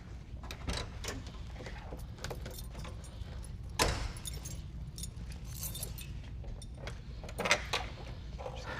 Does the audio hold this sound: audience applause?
no